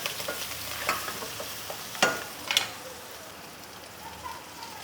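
Mustard seeds crackle and pop in hot oil, a soft continuous sizzle broken by a few sharp spits and crackles.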